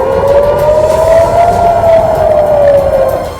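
Air raid warning siren wailing at Tel Aviv airport, a loud, steady rising-and-falling tone that fills the whole stretch with no voices over it.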